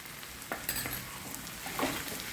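Onions with chili powder being stirred and sautéed in a pan while cooking a pea and paneer curry, giving a soft continuous sizzle with a few scraping spoon strokes, close and fairly quiet.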